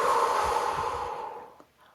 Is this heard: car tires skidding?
no